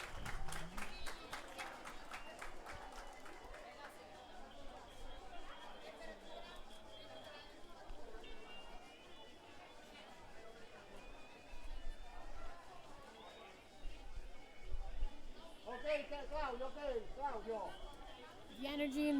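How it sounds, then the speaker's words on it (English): Large stadium crowd at a youth international football match, a mass of chatter and cheering with scattered clapping that swells in bursts, steady and broad throughout the clip. "There's so many people, and the crowd is cheering for both teams."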